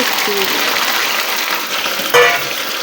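Okra and onions frying in a pan, a steady close sizzle throughout with a brief clatter near the end.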